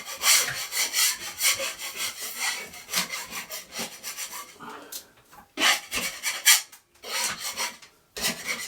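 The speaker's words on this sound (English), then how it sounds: "Now I'm going to go over there and I'm just going to scrape this lot off" A scraper rasping peeling paint off a bathroom ceiling in quick repeated strokes, loud and close, with short pauses between bursts of scraping.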